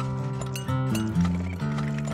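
Horse sounds from the strategy game Turmoil, with a tonal, music-like backing and steady layered hoofbeat-like clopping throughout, fairly loud and without speech.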